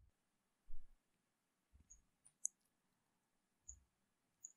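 Faint clicks of a computer mouse opening a DHCP management console on a Windows server: a few soft, separate taps spread across a quiet background.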